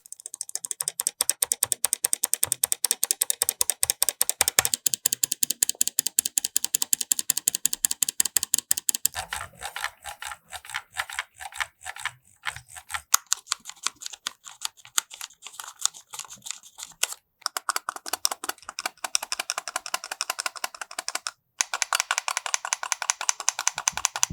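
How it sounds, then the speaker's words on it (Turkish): Close, rapid, sharp plastic clicking and ticking rattle on for over twenty seconds while switches are pulled from and fitted into an ASUS ROG Chakram gaming mouse with tweezers, the rhythm shifting and pausing occasionally. "Cımbızı alıyoruz ve eski switchlerimizi yerinden şu şekilde çıkarıyoruz."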